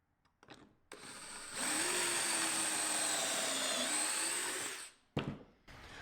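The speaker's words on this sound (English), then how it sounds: "I can just hold on to it like this and drill my pilot hole." A power drill whines at high speed for a few seconds, steady and close, drilling a pilot hole for basement storage shelves, then stops, followed by a short clatter.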